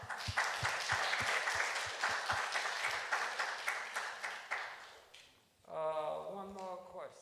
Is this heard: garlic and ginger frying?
no